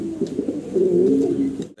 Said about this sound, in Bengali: দেখেন আরও কিন্তু হিউজ পরিমাণ কবুতর আছে